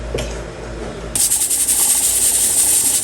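A pressure cooker cooking fish gives a loud, steady hiss of escaping steam that starts abruptly about a second in and continues without a break, after a quieter stretch of low rumbling.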